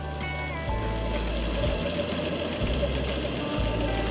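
A sewing machine stitches pleats on palazzo pants, running in a steady close mechanical whir with a rapid rhythmic chatter and brief pauses between bursts.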